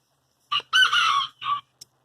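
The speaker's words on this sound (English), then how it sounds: "There's another pretty rooster." A rooster crows once nearby, a loud multi-part cock-a-doodle-doo, followed by a short faint chirp.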